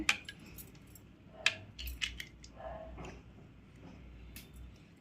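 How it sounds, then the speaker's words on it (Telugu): Ice cubes dropped into a glass of mint juice, a few sharp separate clinks and knocks close by over a quiet background, no talking. "లాస్ట్లో ఐస్ ముక్కలు వేసుకోండి"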